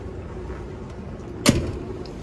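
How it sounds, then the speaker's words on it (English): A vehicle door opens with one sharp clunk and rattle after its retaining pin is pulled during a pre-trip inspection, standing alone over quiet background hum. "You got to pull the pin and open the door at the same time."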